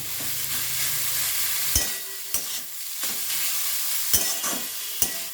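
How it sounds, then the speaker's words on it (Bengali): Potatoes frying in ghee for an aloo payesh, a steady sizzle with a spoon scraping and knocking against the pan every second or so, close and moderately loud. "আলুটা দিয়ে আমি ভালোভাবে ভেজে নেব, ঘিয়েতে ভালোভাবে আলুটা একটু ভেজে নেব।"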